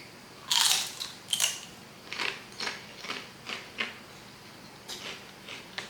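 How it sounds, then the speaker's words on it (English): Wasabi nori chips are crunched up close with a series of sharp, crisp bites and chews at an uneven rhythm, fairly soft overall with no talking. "So actually I'm a little hungry, so I'm going to eat a chips first."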